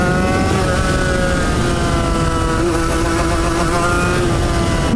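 A Suzuki RGV 250 two-stroke sport motorcycle engine revs hard and steadily for several seconds, its high rising whine sustained close by without pause.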